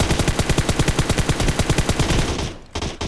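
Fully kitted M4 rifle with a 6x scope firing in PUBG Mobile: a rapid, loud full-auto burst of evenly spaced shots for over two seconds, then a brief pause and a couple of trailing sounds.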